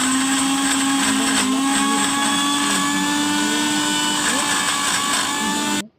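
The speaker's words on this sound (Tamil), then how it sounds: "அப்புறம் இதுக்கு வந்து நம்ம கலகா கொட்டை சட்னி அரைச்சிக்கலாம் ஃப்ரெண்ட்ஸ்" An electric mixer grinder runs loud and steady, grinding a chutney of dried chilli, garlic, tamarind and salt with a high motor whine, then stops abruptly near the end.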